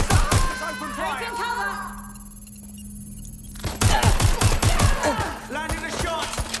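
Bursts of gunfire in the video game Watch Dogs: Legion, rapid shot volleys at the start and again after a quieter stretch, mixed with game effects and overlapping voices.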